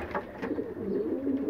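Racing pigeons coo steadily in the main loft, their soft, throaty calls overlapping in a continuous low murmur, close and alone.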